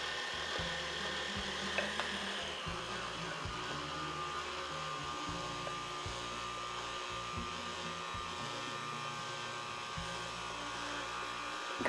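An electric mixer churns cookie dough with a steady, close motor buzz whose pitch stutters and shifts as the beaters meet the thick dough, running without pause and with no voices.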